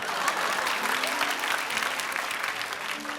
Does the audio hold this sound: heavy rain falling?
no